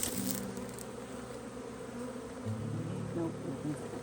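Many honeybees buzz continuously at close range around an open hive, a dense, droning hum with individual bees rising and falling in pitch.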